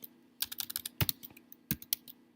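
Town name typed on a computer keyboard: a quick burst of crisp key clicks followed by a few heavier keystrokes, close and quiet with no talking.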